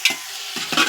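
Chilies stirred in a hot pan while making Maggi noodles, two quick close scraping strokes over a bright steady sizzle in a short burst.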